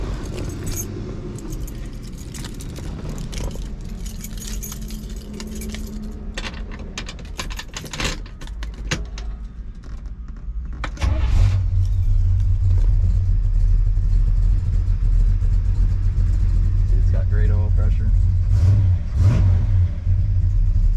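Keys jangle and rattle in the ignition of a 1966 Chevrolet Chevelle SS before its engine catches and settles into a loud, deep, steady rumble with a slight rev, close up and with no talk.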